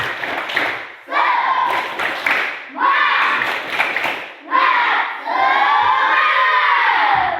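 A classroom group of pupils performs a 'tepuk semangat' spirit clap chant, loud bursts of rhythmic clapping and shouted chanting in several phrases, close and continuous with voices throughout.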